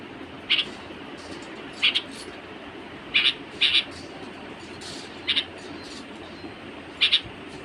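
A pet bird at a window calls loudly to its friend in short paired chirps, repeated about six times at irregular intervals over a steady background hush.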